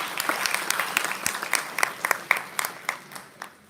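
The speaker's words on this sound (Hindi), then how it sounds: "लेकिन उनके लिए भी हम ताली बजा ही सकते हैं।" Scattered hand claps from a small audience at a Jeevan Vidya conference session, a few sharp distinct claps standing out over a thin patter, moderately quiet and brief.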